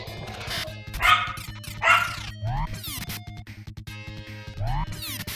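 A puppy barks and yips repeatedly in a room, sharp bursts mixed with short whimpers, heard close over steady electronic game music.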